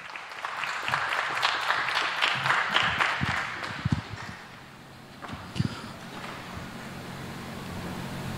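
Applause from a conference lightning-talk audience swells for several seconds, then thins out into a few scattered claps and a low background hum.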